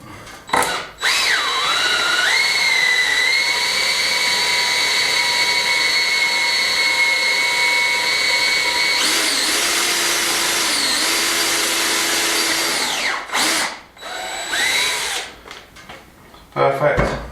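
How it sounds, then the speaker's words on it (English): A power drill whines at steady high speed while it drills into a wall. The close, loud runs are broken by short pauses and a couple of quick restarts, with brief knocks between them. "Again, drill through and get my mark on the wall."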